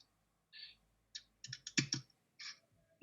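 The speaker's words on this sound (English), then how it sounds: "Let me just type it in properly." Quick, uneven keystrokes on a computer keyboard typing a web address: a short burst, then a run of close, crisp clicks and a final cluster, with brief pauses between, heard up close in a quiet room.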